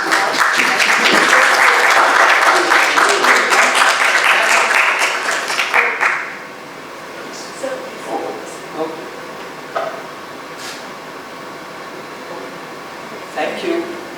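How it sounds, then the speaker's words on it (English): A big round of audience applause at a talk on global trade rings out loudly for about six seconds, then drops away to scattered claps, faint murmurs and room noise. "A good round of applause."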